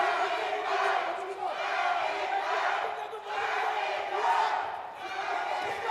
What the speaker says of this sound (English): People cheer for Ik-Hwan Jang.